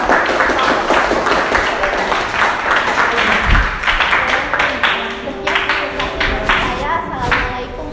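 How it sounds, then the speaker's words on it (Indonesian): Classroom applause: dense, sustained clapping from a group of students filling the room, with voices mixed in throughout. "Kita beri aplaus untuk"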